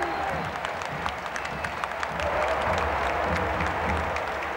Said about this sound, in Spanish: Ovación para el venezolano